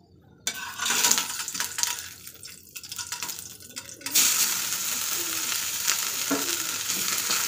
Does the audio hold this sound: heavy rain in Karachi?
no